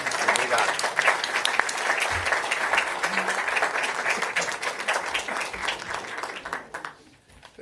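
Sustained audience applause for Mauro Vieira at a Lula state event in France: dense, steady clapping from a sizable crowd that holds for several seconds, then thins and fades out near the end.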